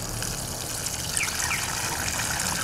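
Homemade willow root starter liquid poured onto a small goji plant, a steady trickling and splashing stream running continuously and fairly close, with faint outdoor ambience and a bird chirp in the background.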